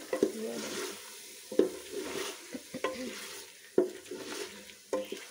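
Chicken with masala, salt, chili and a splash of water being stirred in a pot for shalgam gosht: repeated scraping, sizzling stirring strokes in an uneven rhythm, close and moderately loud.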